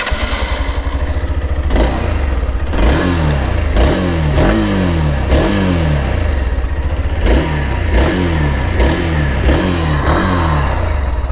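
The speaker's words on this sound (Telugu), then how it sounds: "సో ఇది వచ్చేసి ఈ బైక్ ఎగ్జాస్ట్ నోట్ అనమాట" A 2021 BS6 Hero Xtreme 160R motorcycle idles close by, with its exhaust note blipped into a series of short, repeated revs that rise and fall in a steady rhythm.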